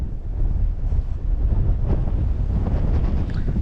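Heavy wind on a frozen taiga lake buffets the microphone, a loud low roar that surges and eases slightly but never stops, with nothing else audible.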